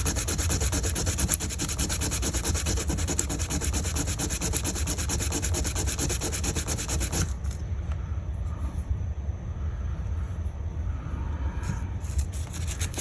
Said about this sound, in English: A lot of damn sanding.